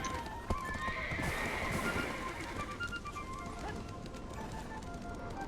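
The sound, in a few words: horses clip-clopping and neighing in the video game Black Desert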